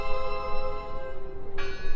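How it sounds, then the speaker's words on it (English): A bell rings in the video game Draugen, a sustained ringing tone with steady harmonics over a murky ambient bed, a brighter strike near the end, with no talking. "Listen! The bell! They're still in there!"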